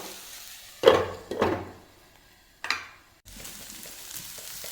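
Ash gourd thoran is stirred in a pan in three quick scraping bursts with soft sizzling between them, close by, then a low steady frying hiss.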